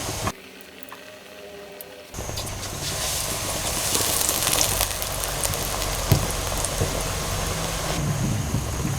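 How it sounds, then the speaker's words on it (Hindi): Spinach-leaf pakora dropped into hot frying oil, where a quiet start gives way to a loud, dense crackling sizzle that swells and holds steady to the end. "ये इसमें फ्राई करता हूँ।"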